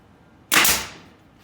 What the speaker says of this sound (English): Take my nail gun, push everything down, making sure that it's flat.